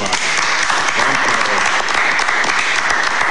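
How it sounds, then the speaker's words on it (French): Loud applause from a large crowd, thick and continuous, with a few faint voices mixed into the clapping. "Est-ce qu'on peut applaudir pour ces projets?"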